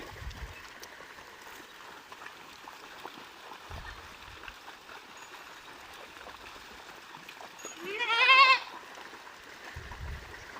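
A single goat bleat rises clearly over the steady rush of flowing water, with faint splashing from animals moving through the stream.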